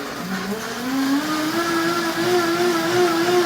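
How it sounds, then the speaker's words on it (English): Vitamix blender whizzing food in a home kitchen, a loud steady motor whine that climbs in pitch over the first second and then holds a sustained high drone. "That's the power of the Vitamix."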